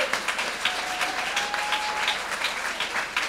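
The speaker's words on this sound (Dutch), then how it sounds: "Applaus, applaus." Audience applause at a late-night show, a dense, steady wash of clapping from a crowd, loud and sustained throughout.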